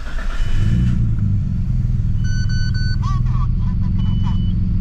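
A Nissan R32 GTR engine turns over and settles into a loud, steady idle close by, its low rumble continuous throughout, while faint electronic chirps sound intermittently over it.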